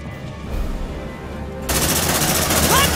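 A sentry gun opens up in Aliens: Dark Descent, a sudden loud, continuous burst of rapid automatic fire that begins partway through and keeps going over a dense game soundscape.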